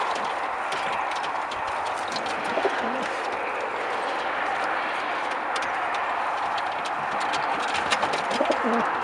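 Pigeons coo steadily at a homing-pigeon loft during a long-distance training session, their soft repeated calls sitting over a constant bed of outdoor noise.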